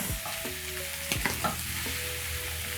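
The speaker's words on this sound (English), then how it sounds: "Once my liver is combined, I'm going to add onions. Stir in the onions." Onions are stirred into liver frying in a pan, with an even sizzle running underneath a few scraping stir strokes and a low steady tone, close up and with no talk.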